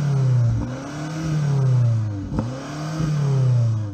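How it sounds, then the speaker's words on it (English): A BMW X6 M SUV's engine revs hard in rising surges, with a steady loud drone that climbs and falls in pitch several times, alone with no talk. "Okay, let's hear the BMW."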